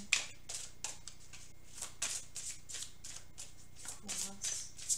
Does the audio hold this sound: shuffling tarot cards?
yes